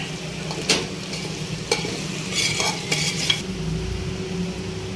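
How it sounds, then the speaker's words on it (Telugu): Salt and chili powder frying in a pan for a shamagadda pulusu, a soft steady sizzle under a spoon scraping and stirring, with a few sharp clinks of metal on the pan. "ఉప్పు, కారం మంచిగా వేగిపోయింది"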